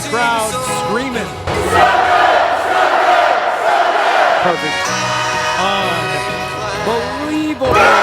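A capacity crowd screams and roars at an AML Presents Monsters Unleashed wrestling event, a loud sustained wall of cheering with a shouted voice briefly cutting through near the end.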